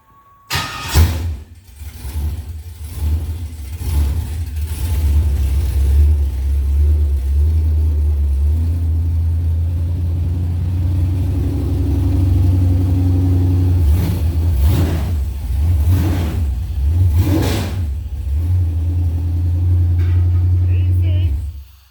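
A Camaro's 5.3 V8 with Terminator X fires up and keeps running as a loud, deep, steady rumble with a few short revs, and people talk over it.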